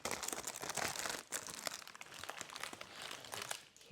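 Parchment paper crinkles and rustles as it is peeled away from a freshly baked sourdough sandwich loaf lifted from its loaf pan, close and continuous with sharp crackling bursts, and no voices.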